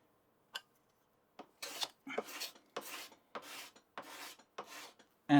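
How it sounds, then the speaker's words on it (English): A finely set card scraper shaves a board near a knot while making a wooden straight edge, giving about seven short, dry rasping strokes in an uneven rhythm, close and fairly quiet, between small taps. "grab my card scraper"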